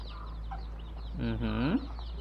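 Baby chicks peep and chirp in a quick high flurry over a steady low hum, fairly faint and brief.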